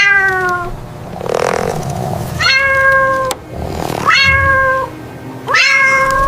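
Several cat meows in a row, each a clear harmonic cry, with brief pauses and rustling between them. The calls are close and loud, and no voices are heard.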